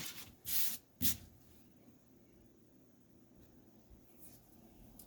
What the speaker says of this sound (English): I can just spray this and then lay it down